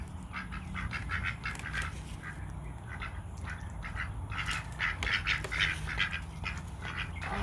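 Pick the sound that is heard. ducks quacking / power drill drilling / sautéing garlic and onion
ducks quacking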